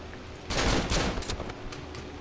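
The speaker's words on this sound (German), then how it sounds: "Schieß nicht so viel mit der Shotgun" Shotgun blasts in the horror game Cry of Fear, a dense burst of loud, booming shots crowding the first second, then scattered quieter reports and echoes trailing off.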